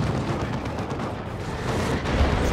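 Cyclone missiles slam into Terminators in the video game Dawn of War 2, a dense rumble of explosions and rapid impacts that rolls on without a break, with a slightly heavier burst near the end.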